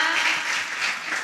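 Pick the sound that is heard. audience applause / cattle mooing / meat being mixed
audience applause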